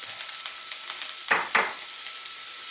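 Carrots sautéing in a little hot oil in a wok over low heat, a steady close sizzle with a couple of brief scraping stirs partway through, no talk.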